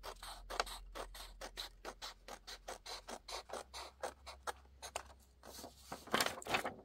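Scissors snip through paper strips for a junk journal, a steady run of about twenty short, crisp cuts, close and fairly quiet, with a louder scraping burst near the end and no talking.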